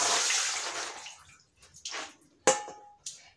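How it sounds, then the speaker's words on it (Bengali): Raw chickpeas being rinsed in water, with a swishing splash that fades into a few short, separate splashes and drips. Close and fairly quiet, with no voices. "চানাগুলো ধুয়ে নিলাম,"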